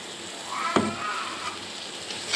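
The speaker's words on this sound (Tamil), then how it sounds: "தக்காளி வதங்கும் போதே இந்த கருவேப்பிலை மிளகு இஞ்சி அரைச்சிருக்கோம் பார்த்தீங்களா அந்த பேஸ்ட்டை போட்டுடலாம்" Tomato sautés in a pan as a ground paste of curry leaves, pepper and ginger goes in, a brief steady sizzle broken by one sharp clatter near the start.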